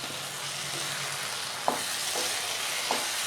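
Mutton pepper chukka frying in a pan, with a steady bright sizzle throughout and a couple of soft stirring scrapes.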